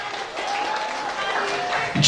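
Applause from a wedding crowd for the cooks, a dense steady wash of clapping that holds for about two seconds, heard under an announcer's voice.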